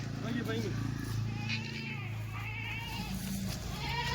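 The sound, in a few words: goats bleating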